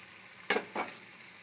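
Risotto Milanese being stirred in a hot pan, two quick scraping, sizzling strokes over a quiet low background.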